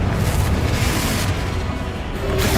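A Confringo spell explosion in the Hogwarts Legacy video game: a loud, sustained booming blast with a rumbling low end and a burst of noisy crackle that keeps going without a break.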